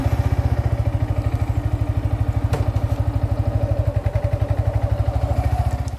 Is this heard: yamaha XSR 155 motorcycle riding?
yes